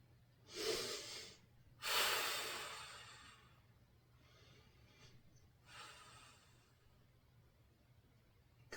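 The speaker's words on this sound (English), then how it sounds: "Breathing deeply on the exhale." Deep, audible breaths during a core twist stretch in a golf workout, two strong exhales followed by softer rhythmic breathing, close and quiet with no speech.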